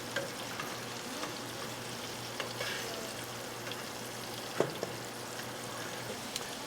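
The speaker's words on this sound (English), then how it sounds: "while the rest of the shrimp is frying" Shrimp frying in hot oil for spring rolls gives a steady, soft sizzle and crackle with a few faint clinks, close by, with no talking.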